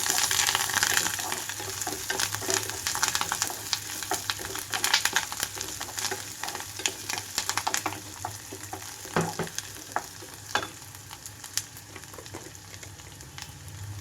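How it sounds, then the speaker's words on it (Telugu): Ginger-garlic paste and curry leaf sprigs fry in oil with a steady, moderately quiet sizzle dotted with sharp pops and crackles and occasional stirring scrapes. "అల్లం వెల్లుల్లి పేస్ట్ పచ్చివాసన పోవాలి ఇప్పుడు ఇందులోనే నాలుగు కరివేపాకు రెమ్మలు కూడా వేసుకున్నాను"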